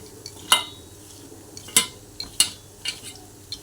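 Shrimp being hand-mixed with turmeric and salt in a bowl, giving a few sharp clinks and scrapes at irregular intervals over a quiet background, with no voices.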